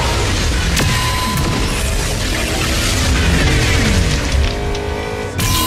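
Orbital strike from space exploding in the Agents of Mayhem game, a loud continuous barrage of blasts and rumbling crashes with sharp cracks throughout and a final bang near the end, no talking.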